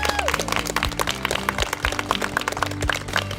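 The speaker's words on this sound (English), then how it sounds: "So let's give them one more round of applause." An outdoor crowd at a groundbreaking ceremony for an inclusive playground claps in a loose, scattered round, with steady tones sounding beneath the applause throughout.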